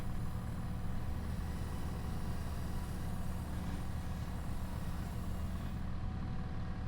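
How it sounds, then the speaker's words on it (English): A tractor engine in a logging roleplay video game runs on a cold morning at minus four degrees Celsius, giving a steady, loud, low diesel rumble that holds throughout with no talk. "And of course the tractor takes a long time to start up."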